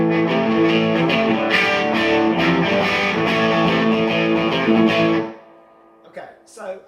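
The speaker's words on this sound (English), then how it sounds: "I'm going to run the Les Paul through it just to give you some idea of what it does with some humbuckers" A Les Paul guitar with humbucker pickups plays through a Bad Cat Cub IV 15R amp with heavy reverb: loud, ringing chords sustain for about five seconds, then cut off abruptly, leaving a few faint, brief sounds.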